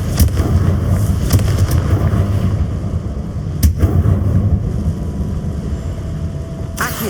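Confringo fire spell blasts in Hogwarts Legacy, several sharp cracking bursts spaced a few seconds apart over a loud, steady background of game ambience and music.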